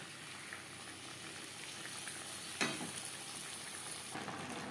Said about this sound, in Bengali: ফোড়নের সাথে সবজি বেশ ভালো করে মিক্সড করে দেব।